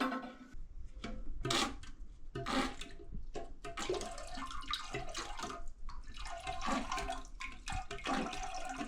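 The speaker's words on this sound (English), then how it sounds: "we're going to put the water in the bowl and empty out this tank" Water from a toilet tank splashes and gurgles into the bowl in uneven bursts and trickles during a fill valve replacement, close and fairly loud, with no speech.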